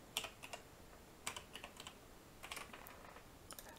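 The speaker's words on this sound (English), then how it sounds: "Now I have to type my IP address here" An IP address is typed on a computer keyboard in short bursts of quick, quiet key clicks separated by brief pauses, close-miked but faint, with no talking.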